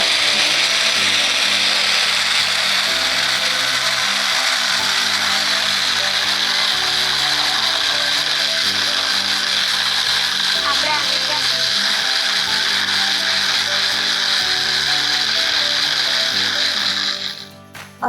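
Mixer grinder whirring loudly and steadily as it blends food into a smooth puree, the motor pitch shifting in stepped pulses before cutting off at the end; no talk is heard over it.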